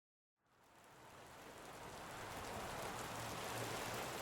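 Steady rain falls on a Seattle street, a broad, even hiss that fades in over the first half-second and then holds at a constant level, close and continuous, with no voices.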